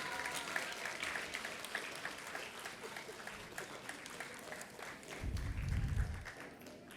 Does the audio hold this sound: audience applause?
yes